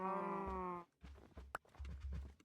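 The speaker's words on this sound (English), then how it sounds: "Why can't these cows make it up this hill?" Minecraft cows give a drawn-out, tonal in-game moo, followed by several shorter, lower grunting moos and thumps. The sounds are close and clear, with brief gaps between them.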